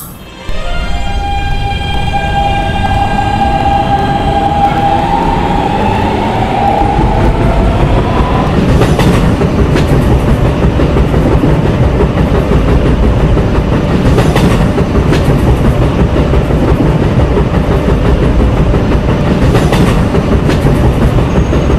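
A D subway train on the Roblox PTA Subway 5th Avenue Lines runs loud and close, opening with a rising whine of motors, then steady rumbling and clickety-clack of wheels with a few sharp rail clicks.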